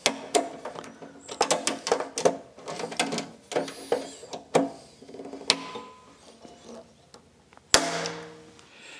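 A rivet being pushed through a drilled hole in an aluminium race seat makes a string of close, light metallic clicks and ticks, irregular and fairly quiet.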